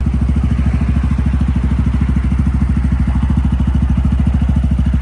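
A Honda Grom motorcycle engine, freshly fitted with a new cam and adjusted valves, idles steadily up close, a loud, even rapid thumping pulse with no voices.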